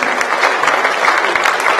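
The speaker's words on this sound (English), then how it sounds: "give a round of applause to Dr. Thompson, Betty Jo Malcheski" A school audience at an 8th grade academic awards ceremony gives staff a round of applause: dense, steady clapping from many hands that holds at an even level throughout, with no talking over it.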